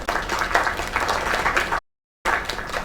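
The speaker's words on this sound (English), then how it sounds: "Another applause." Lively applause and clapping from an audience, cut by a brief moment of total silence before the clapping resumes.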